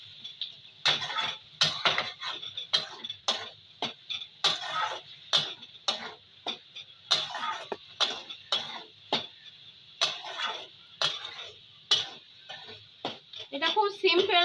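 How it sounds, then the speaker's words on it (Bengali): Turmeric and chili masala being stirred and sautéed in a pan for a spicy rohu fish curry, heard as a rapid series of sharp spoon-on-pan taps and scrapes, close and rhythmic, with no sizzle evident. "আরও আমি নেড়ে নিয়ে কষিয়ে নেবো।"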